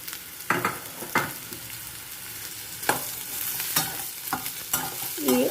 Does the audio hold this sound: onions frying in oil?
yes